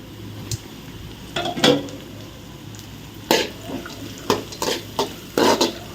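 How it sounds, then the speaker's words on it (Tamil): Carrots and mixed vegetables sautéing in a pan for a vermicelli dish give a low steady sizzle, broken by several sharp scraping stirs and clinks of a spoon against the pan, close by with no talking. "காய்கறிகள் எல்லாம் நல்லா வதங்கட்டும்"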